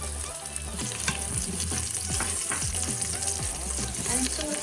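Garlic sautés in a pan with bay leaves and cloves for an Indian restaurant-style tomato and carrot soup, a loud continuous sizzle with spoon scrapes and stirring clatter close by.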